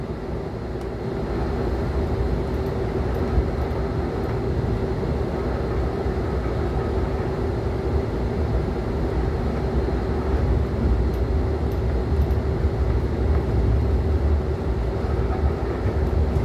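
A train rolls onto the arrival track group at Warszawa Praga station, heard as a steady, loud low rumble with faint rail clatter throughout, no voices.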